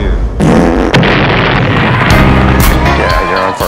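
A loud fart-and-explosion sound effect from a comedy talk show segment bursts out abruptly and stays as a dense, booming roar for several seconds, with crowd noise mixed in.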